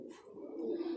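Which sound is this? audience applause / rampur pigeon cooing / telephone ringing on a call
rampur pigeon cooing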